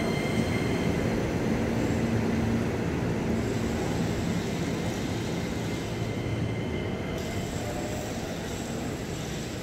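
A KRL Commuter Line train rumbles steadily at Gondangdia station in Jakarta, a loud, continuous rolling roar with mechanical whine, and no voices.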